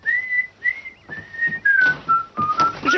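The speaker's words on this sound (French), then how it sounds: "Je ne veux pas vous entendre siffler." A person whistles a slow, wavering tune in clear, sustained notes with short breaks between phrases. Faint background noises sit underneath, and there is no talk.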